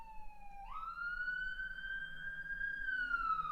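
A police siren wails outside, rising into a long steady tone that holds loud and clear for several seconds before starting to dip, with faint traffic rumble underneath.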